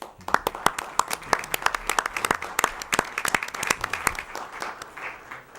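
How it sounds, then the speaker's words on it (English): Audience applause fills a Huntsville city council meeting chamber, a steady round of many hands clapping close and loud for several seconds with no talk over it. "a big round of applause"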